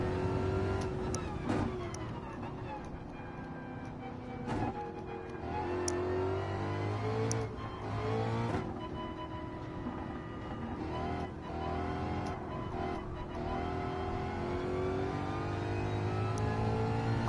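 Ford Mustang race car in Gran Turismo 7 during a Manufacturer's Cup race, its engine droning steadily with repeated rising revs and gear shifts, sustained and fairly close throughout.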